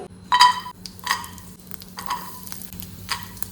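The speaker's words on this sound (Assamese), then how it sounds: "এতিয়া ড্ৰাই ফ্ৰুটছখিনি অকণমান ঘিউত ফ্ৰাই কৰি ল'ম" Dry fruits fry in ghee in a hot kadhai wok, giving a steady close sizzle broken by a few brisk stirring scrapes, with no talking.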